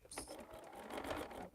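A home sewing machine chain-sews half square triangle quilt pieces, a quiet steady mechanical whir running without pause for over a second with no voices.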